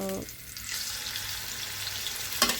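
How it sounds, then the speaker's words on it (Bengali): Pieces of boal fish fry on a flat tawa, filling the clip with a steady, close hiss of sizzling oil and a brief clatter near the end. "তাওয়াতে তিন পিস মাছ ভাজা হয়েছে"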